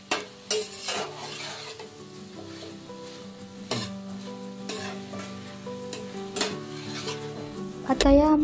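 Sliced onion for mushroom chilli sizzles in a hot pan while a spatula stirs and scrapes, with repeated clanks against the metal and a steady frying hiss, close and clear.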